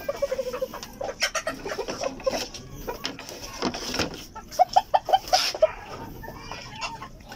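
Backyard chickens cluck and chatter nearby in an irregular stream, with a burst of louder repeated clucks toward the end over a rustling outdoor background.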